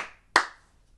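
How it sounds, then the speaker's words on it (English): A single sharp hand clap rings out in a preschool sing-along, right after a fading voice, then quiet. "clap your hands."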